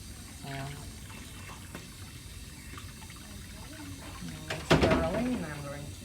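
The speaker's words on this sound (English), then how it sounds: "And I'm going to rinse with my fingers below my" Hands are rinsed under a running tap at a sink, the water rising into a brief louder splash near the end while a person keeps talking throughout.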